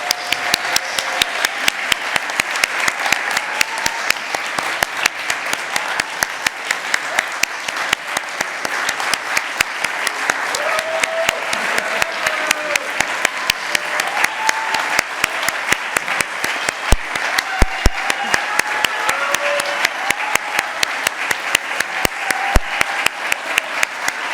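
An awards ceremony audience gives a sustained round of applause, dense steady clapping from a large crowd lasting over twenty seconds, with faint voices and a few whoops underneath.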